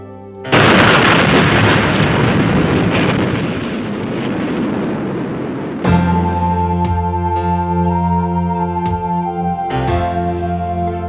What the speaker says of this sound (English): As man detonated weapons of immense power